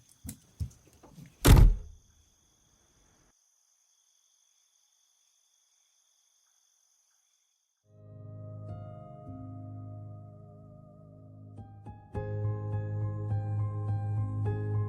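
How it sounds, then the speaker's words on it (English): A door closes behind someone with a few light taps and one sharp, close thunk, followed by silence and then a soft rising drone of background music. "she rushed inside, closing the door behind her"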